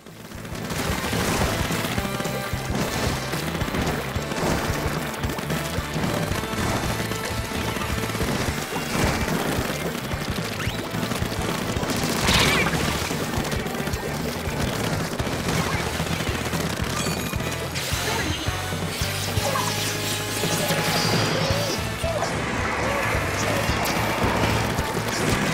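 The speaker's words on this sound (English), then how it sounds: "nothing like throwing a nice booyah bomb" Splatoon 2 online match as a Booyah Bomb is thrown: a dense, constant wash of game music and effects with repeated bursts, splats and booming crashes layered throughout.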